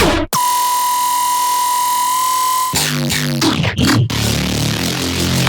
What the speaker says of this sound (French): on a une bassline sans le sub qui ressemble à ça